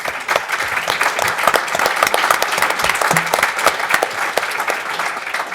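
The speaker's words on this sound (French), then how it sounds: "Je vous demande de lui faire un applaudissement chaleureux." A meeting audience at a general assembly claps warmly: dense, sustained applause from many hands fills the room at an even level throughout, with a faint murmur from the crowd.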